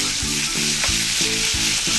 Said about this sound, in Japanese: 練り物系っていうのは魚肉ソーセージもしっかりなんですけども、 炒めていくと非常にいいね、香りが出てきます。